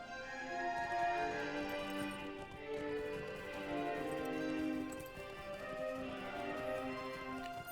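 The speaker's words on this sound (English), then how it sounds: "So my horse is now taking me into the green fields." Horse hooves clip-clop at a walk across green fields in the online game Lord of the Rings Online, an even rhythm of hoof taps set over a layered musical soundtrack with no talk.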